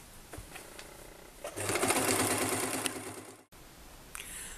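A sewing machine stitches fabric for a small bag, sewing a strap band along its full length; a steady close whirring run of needle strokes lasts about two seconds after brief preparatory clicks, then stops and a short second burst follows.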